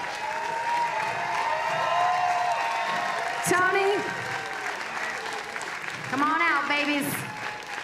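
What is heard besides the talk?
audience clapping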